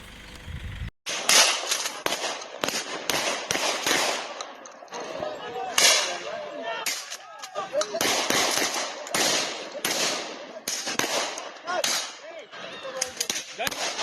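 Gunfire during civil unrest and looting in South Africa, heard as a long run of sharp cracks and bangs, some in quick bursts and some spaced apart, loud and echoing over background noise.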